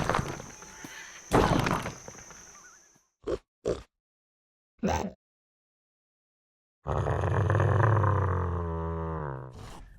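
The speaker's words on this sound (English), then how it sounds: "I also use them for one-off sounds such as the destructible boxes and the weapon being collected." Game sound effects in a Unity project using FMOD, where destructible boxes break with short, sharp thuds and cracks and a weapon pickup gives a rising tonal chime, separated by moments of complete silence.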